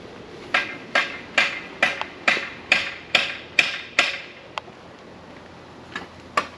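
A hammer striking a car's ball joint to break it loose, about ten sharp, ringing metallic blows in a steady rhythm, then a pause and a few scattered hits, close and loud with no talking.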